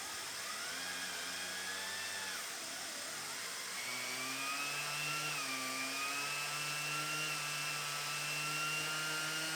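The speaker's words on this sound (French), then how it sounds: "ma ponceuse est en train de mourir" A failing electric sander works on wooden bed panels, giving a continuous whining motor drone whose pitch sags and wavers, then drops and recovers at a lower, uneven speed, close and steady.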